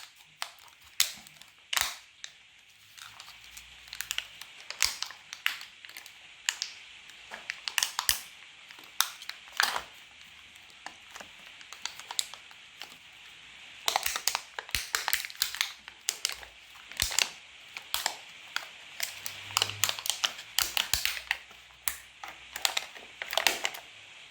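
Plastic casing of a Black & Decker 18V NiCd battery pack is being ripped apart, giving a string of sharp cracks, snaps and crunches in irregular bursts, close and fairly faint.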